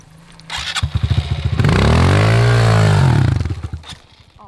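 A Honda CRF125 dirt bike at an enduro-style compound, its engine blipping in quick rising bursts before holding a loud, sustained high rev and then dropping back to choppy idle pops, close to the microphone.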